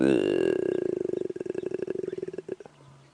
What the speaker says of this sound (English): There's the lion calling.